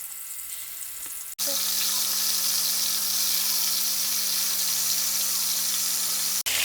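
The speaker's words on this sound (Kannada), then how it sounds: "ಸೊ ಕೈಮಾ ಉಂಡೆನ ನೀಟಾಗಿ ಫ್ರೈ ಮಾಡ್ಕೊಳ್ಳಿ" Mutton keema balls fry in hot oil in a pan, a loud, dense, continuous sizzle that starts abruptly and carries on steadily, close by and without talk.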